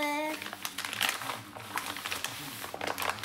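Someone opening an envelope one-handed produces a run of close crinkling, tearing and rustling paper sounds in irregular bursts, with a brief voice at the very start.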